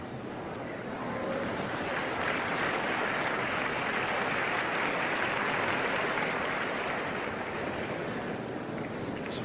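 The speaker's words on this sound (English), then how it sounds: "receiving rapturous applause for a 10 on high bar" A large arena crowd at the 1984 Olympic men's gymnastics bursts into sustained, dense applause for a perfect 10 on the high bar, a loud continuous roar of clapping from start to finish with no talk.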